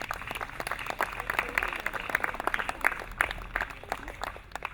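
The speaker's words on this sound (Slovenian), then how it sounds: "En aplavz za prostovoljce" Volunteers are applauded at an outdoor summer music festival in a garden, a crowd's scattered, fairly sparse clapping with individual hand claps audible throughout, moderately distant and steady.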